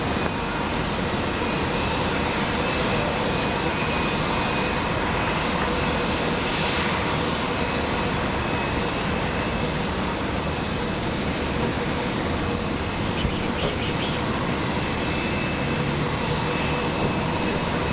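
A Jetstar jet takes off from runway 19 left at Brisbane Airport, a steady broad engine roar holding constant at a moderate distance.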